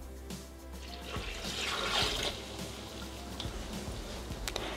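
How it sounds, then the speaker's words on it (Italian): Water poured into a Thermomix bowl while making peach liqueur: a steady close splashing stream that builds slightly in the middle and runs throughout, with no talking. "Aggiungere l'acqua."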